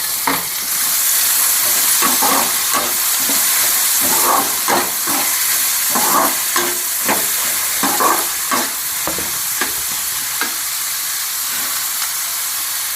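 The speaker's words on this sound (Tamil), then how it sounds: "பொடியாக நறுக்கின வெங்காயத்தை நான் கலந்துக்கிறேன்." Finely chopped onions for egg chukka frying in hot oil in a pan, a steady close sizzle and hiss with repeated stirring scrapes throughout, no voices.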